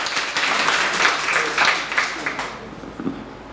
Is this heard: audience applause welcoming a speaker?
yes